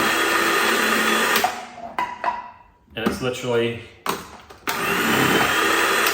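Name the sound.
kitchen chopper chopping onion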